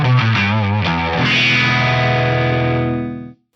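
A synthesizer tone pushed through heavy drive distortion, opening with a few quick gritty pitch-shifting notes, then a thick buzzing sustained note that rings loud and alone before cutting off sharply.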